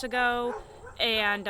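Several dogs whine and whimper in two drawn-out, high, wavering bursts as a person talks over them.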